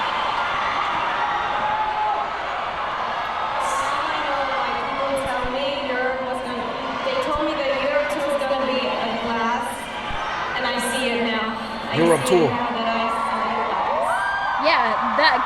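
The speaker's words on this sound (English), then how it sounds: "that crowd is losing their heads" A huge concert crowd in London roars and whoops continuously at a K-pop show, loud and sustained, with a person talking over the din.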